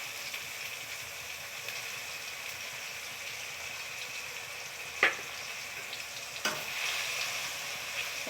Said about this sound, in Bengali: এটা একটু ভেজে নিচ্ছি এবারে আমি দিচ্ছি এতে নারকেল কোড়া